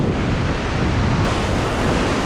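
Ocean waves on an Australian coast slam into rocks, a loud, unbroken roar of surf and wash mixed with wind buffeting the microphone, with no voices.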